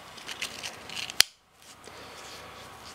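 The backlock of a Cold Steel Talwar folding knife snaps shut with a single sharp, loud click, preceded by quiet handling and followed by near silence.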